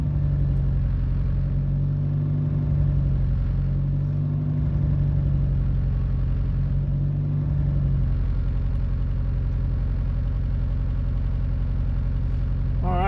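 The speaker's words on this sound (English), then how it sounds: "So it's gonna idle a little bit weird, especially whenever it's misfiring and we keep shutting it off before it gets up to temp." Mitsubishi Evo IX engine idling roughly with a misfire, a continuous loud, low throbbing rumble with an uneven, lumpy pulse throughout, close up and without talking.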